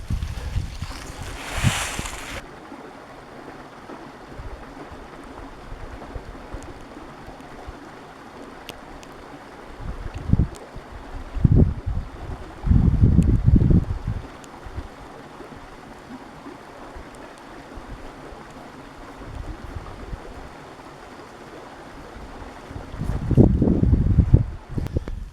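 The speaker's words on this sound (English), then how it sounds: "and sudden weird gusts of wind." Gusts of wind beside a river on a moody day, low rumbling buffets hitting the microphone in uneven bursts over a soft steady rush of flowing water, strongest near the middle and end.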